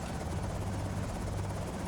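A helicopter flies overhead in the zombie survival game Project Zomboid, a loud, steady rotor drone that holds at constant strength throughout.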